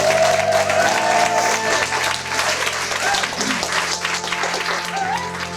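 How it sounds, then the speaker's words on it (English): Wedding guests applauding after the vows, a sustained wash of clapping over steady background music, with some voices mixed in. "I think they deserve a round of applause."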